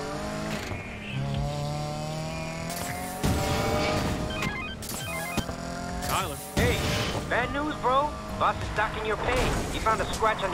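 Car driving in Need for Speed: Payback, with a steady engine drone and rising and falling revs running through the whole stretch, mixed with bursts of game music and effects and a voice talking over it.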